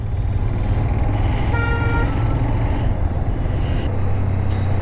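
Road traffic jam on a ride from Moradabad to Delhi, a dense steady rumble of cars, trucks and autos with a sustained car horn blast in the middle and another honk near the end, no talk.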